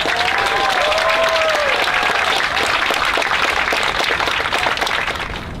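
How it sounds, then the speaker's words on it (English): Loud, sustained applause from a roomful of people at a white coat ceremony, steady clapping that begins to fade toward the end, with a brief whoop early on. "So huge round of applause."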